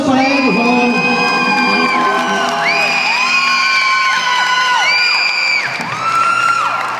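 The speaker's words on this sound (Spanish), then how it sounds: "Un aplauso para él, por favor." A concert crowd at a festival cheers, whoops and shouts loudly and continuously, with voices rising and falling in overlapping waves close by.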